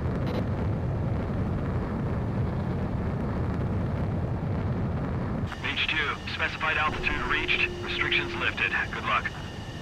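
A jet aircraft takes off in the video game Ace Combat 7: Skies Unknown with a loud, rushing engine roar lasting about five seconds. It then gives way to radio-style voices talking over a brief tone.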